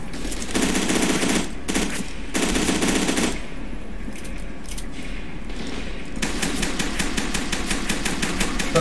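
Assault rifle fire in the shooter game Fear 2: loud, close rapid automatic bursts, two separated by a short pause and then a longer sustained stream, with faint clinks in the gaps.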